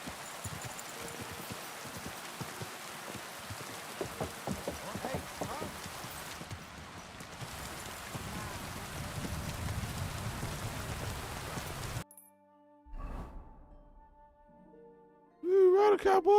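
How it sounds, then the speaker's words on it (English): Steady rain falls in Kingdom Come: Deliverance 2, a broad hiss of drops on surfaces with faint hoofbeats from a horse, continuing under intermittent talk before cutting off near the end, when a brief musical sound and louder voices take over. "Another rainy day."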